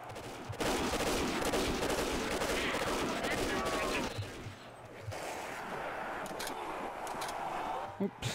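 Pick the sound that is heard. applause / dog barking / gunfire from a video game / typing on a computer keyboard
gunfire from a video game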